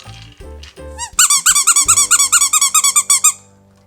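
Rubber corn-on-the-cob dog toy squeaked in a quick run of about fifteen sharp, high squeaks, close and loud, after a few muffled handling thumps.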